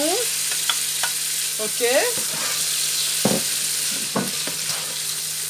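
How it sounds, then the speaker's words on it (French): Salted fish being stirred in a cooking pot with a utensil, scraping and knocking against the pot in short irregular strokes over a steady sizzle, with a brief spoken word near the end. "Je mélange bien."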